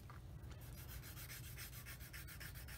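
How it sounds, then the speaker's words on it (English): A sander works back and forth along the cut edge of a plastic part for a Tamiya 1/48 F4F-4 model kit, making a steady, close rasping rub with regular strokes and no talking. "just using the sander, just kind of hit the edge there, kind of going back and forth"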